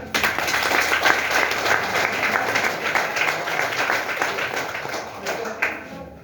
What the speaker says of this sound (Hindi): तो महिलाओं के लिए एक जोरदार तालियां।